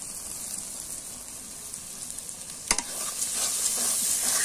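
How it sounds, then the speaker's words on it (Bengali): Spices such as coriander and radhuni sautéing for a coconut chicken curry give a steady, close sizzle with soft stirring, broken once by a sharp clatter midway, after which the hiss grows brighter and louder. "আর এটাকে সুন্দর করে এখন কষিয়ে নিতে হবে"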